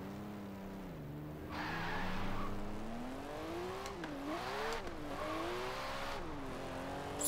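A BMW 2002 engine drones in Forza Horizon 4, its pitch rising and dipping through gear changes, with brief tyre squeal and skid noise over the steady hum.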